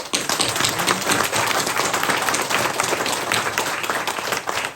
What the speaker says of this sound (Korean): 위로의 박수를 한번 드리겠습니다